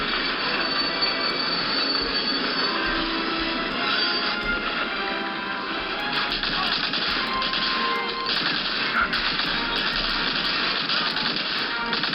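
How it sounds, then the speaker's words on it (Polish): A train rolls in within the Omaha Beach-era World War II shooter Medal of Honor: Allied Assault, a steady loud rumble of rail cars with squealing wheels and metallic clanks throughout, with no talk over it. "Czekamy na pociąg. Coś nie nadjeżdża."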